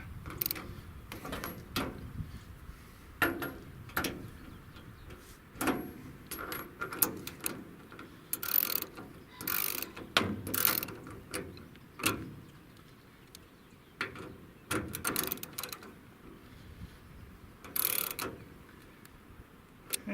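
Ratchet wrench tightening bolts on a trailer corner marker, with clicking ratchet strokes in irregular bursts across the whole span, near and moderately loud, with occasional metallic clinks and no speech.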